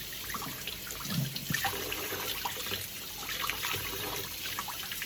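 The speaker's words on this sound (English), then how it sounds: "I'm gonna wash my broccoli rabe." Broccoli rabe is rinsed under a running kitchen sink tap, with a steady splashing stream of water and small irregular spatters as the greens are moved through the flow.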